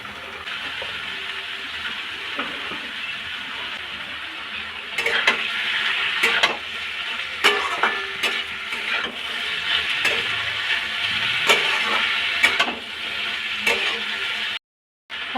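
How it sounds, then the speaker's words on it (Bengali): Chopped onion and potato fry in an oiled pan for chowmein, giving a steady, loud sizzle broken by scraping and stirring strokes, with a brief cut to silence near the end. "আমার হালকা পেঁয়াজ ভাজা হয়ে গেছে, এখন আমি আলুটাকে ছেড়ে দেব।"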